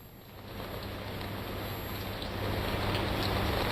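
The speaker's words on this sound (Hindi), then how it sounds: "यहाँ पर भी मूसलाधार बारिश हो रही है और जल भराव की स्थिति है" Heavy monsoon downpour in Andheri, Mumbai, with waterlogged streets: a dense, steady hiss of rain that builds slightly louder over the few seconds, with no voices.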